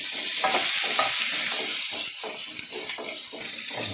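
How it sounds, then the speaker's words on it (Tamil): Large onions, small onions and garlic frying in a pan for manathakkali vathal kuzhambu, a loud, continuous close sizzle with a rhythmic series of spatula scrapes and stirs throughout. "இப்போ இது நல்லா வறுத்துக்கிட்டு இருக்கு வெங்காயம் பெரிய வெங்காயம் சின்ன வெங்காயம் பூண்டு எல்லாம் போடுறேன்"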